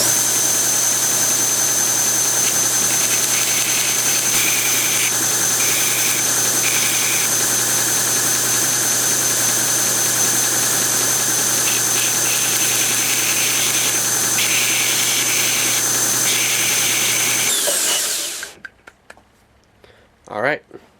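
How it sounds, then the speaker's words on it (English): A big belt sander grinds the rough edges of wood pen blank tubes for a double barrel fountain pen, a loud steady whine with shifting contact noise that runs continuously, then stops, leaving near silence. "So we'll sand those off on this big belt sander."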